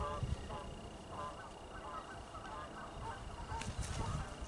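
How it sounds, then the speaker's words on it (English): Geese honk faintly in the distance as they fly past a fence line outdoors, scattered calls underneath nearby talking. "Oh, here comes some geese."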